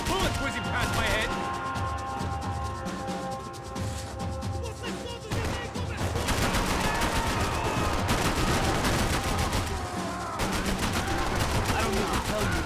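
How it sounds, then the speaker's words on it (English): Dense video-game gunfight in Max Payne 3: rapid bursts of automatic gunfire and scattered shots crack continuously at close range, with bullets whizzing by, loud and sustained throughout, voices faintly mixed underneath. "I can't concentrate with bullets whizzing past my head."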